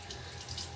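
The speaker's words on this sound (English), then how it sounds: "warm up the water a little bit" Tap water runs steadily into a tub being warmed for a cat's bath, a brief, faint hiss of flowing water with no talk.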